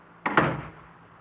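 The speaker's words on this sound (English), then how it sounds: "How did that door close?" A door closing in a radio drama: a single short, close thump with a brief latch-like double hit, alone against a quiet background.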